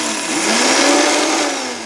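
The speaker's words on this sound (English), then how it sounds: "puree our oats in the blender and make them into a flour-like consistency" Blender motor whirring at high speed as it purees dry oats into a flour-like powder, a steady loud grinding drone that swells slightly mid-way and holds for about two seconds with no talking.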